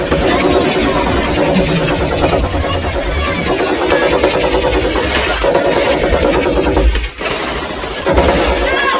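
Soldiers in a film spray a warehouse with machine gun fire, a dense, continuous rattle of loud shots and crackling impacts filling the whole stretch with only brief dips, mixed with film soundtrack.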